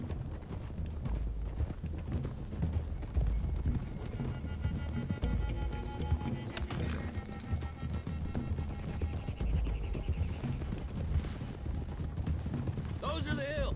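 Horses galloping along a road in a video game, a continuous rapid clatter of hooves with a brief whinny, under game music and characters talking.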